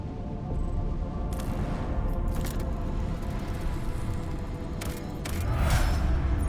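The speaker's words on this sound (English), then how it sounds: "The rogue trader gave the order to fire upon the dead vessel at range" Starship weapons in the Warhammer 40k: Rogue Trader video game fire on a dead vessel, a dense, continuous rumbling barrage with a few sharper booms near the end and a heavier swell toward the close.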